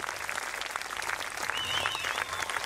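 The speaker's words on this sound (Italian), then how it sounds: "Please give them a big round of applause." Audience applause for a group of opera students at an outdoor riverside opera performance, steady dense clapping filling the whole stretch without pause.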